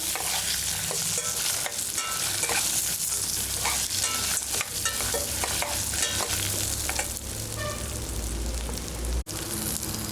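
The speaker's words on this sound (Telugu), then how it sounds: "వాటితో పాటుగానే అల్లం వెల్లుల్లి వేసుకొని వీటిని కూడా ఈ విధంగా వేయించాలి." Dried red chillies, green chillies, ginger and garlic fry in a pan for hotel-style tiffin sambar, giving a loud, steady sizzle with stirring scrapes throughout and no talk.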